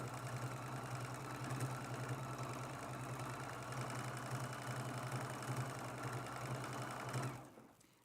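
A sewing machine runs steadily, stitching across a quilted mug rug for about seven seconds in a continuous close whir, then stops abruptly.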